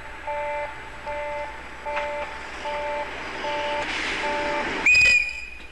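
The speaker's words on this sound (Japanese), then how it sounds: "警笛鳴らされるとね、本当びっくりするんですよね。" A train horn sounds at Kanazawa station in winter 1982, near a 10-series sleeper express Noto from Ueno: a loud, sharp blast near the end, after a run of evenly spaced two-tone signal beeps over steady station hum.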